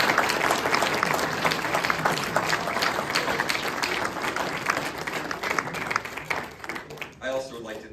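An audience at a primary candidate forum claps for the candidates, a loud, dense round of applause that holds steady before thinning out at the end, with a voice emerging as it fades.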